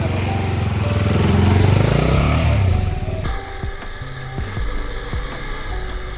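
A new CFMOTO 300SR motorcycle engine revs up and down for about three seconds, then drops to a low burbling idle punctuated by a few soft thumps, close by with no clear speech.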